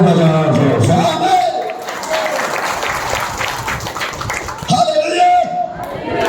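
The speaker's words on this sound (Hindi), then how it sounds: "ताली बजाओ जोर से" A congregation at a Christian sermon claps loudly and continuously together, a dense crowd applause that carries on under a preacher's raised voice.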